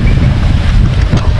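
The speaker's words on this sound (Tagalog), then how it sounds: "lakas kasi ng hangin" Strong wind buffets the microphone at the Carino campsite in Dingalan, Aurora, producing a loud, continuous low roar and rumble that fills the whole moment with no voices.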